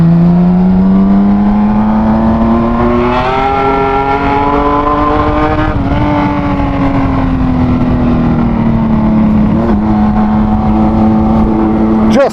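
A Kawasaki Z1300 six-cylinder motorcycle engine runs loud and close, its smooth steady drone rising slightly in pitch and holding, with a few brief blips of throttle along the way.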